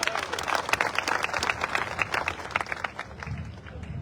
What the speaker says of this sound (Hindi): यदि लगा हो तब तो ताली बजाइए